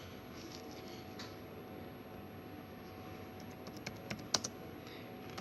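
Keys tapped on a computer keyboard while entering a ping command for a ticket machine network check, faint and sparse at first, then a few sharper clicks toward the end over steady room hum.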